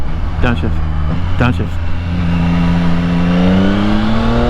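A 2022 Yamaha XSR900 motorcycle pulls hard in second gear, its engine note rising steadily in pitch after a couple of quick blips, loud and close, with someone talking over it early on.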